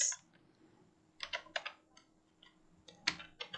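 Bursts of quiet, close keystrokes on a computer keyboard, clicking in short irregular clusters with pauses between them.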